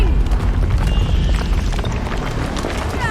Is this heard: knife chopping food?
no